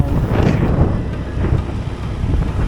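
Strong typhoon wind buffets the microphone on Siargao, a loud, gusty roar that swells and dips in uneven pulses for a few seconds, with no voices.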